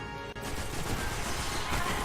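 Continuous dense burst of automatic rifle fire in a first-person shooter video game, a steady rattling stream of shots filling the whole moment at moderate loudness, with one brief dip near the start.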